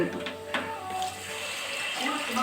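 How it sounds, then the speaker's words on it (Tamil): Water splashes and trickles steadily into a pot of fish curry, a continuous pouring sound close by with light clinks. "ஊற்றுவோம் கரைச்சி வச்ச தண்ணி"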